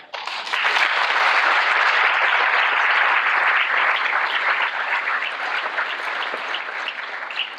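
Graduation ceremony audience applauding for a graduate, a dense, steady wash of many hands clapping that starts abruptly and sustains loudly, tapering slightly toward the end.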